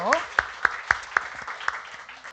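Church congregation clapping during a youth Sunday service, a short burst of evenly spaced claps, fairly quiet and roomy, with a voice briefly heard at the start.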